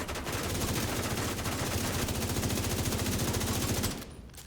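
Sustained rapid automatic fire in The Division 2, a dense unbroken stream of loud shots for about four seconds before cutting off abruptly.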